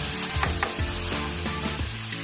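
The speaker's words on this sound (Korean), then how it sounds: "보글 끓이면 멸치 넣어줍니다" Anchovies stir-frying with garlic scapes in a pan, a steady loud sizzle with soft scraping stirs recurring every half second or so, with no talking.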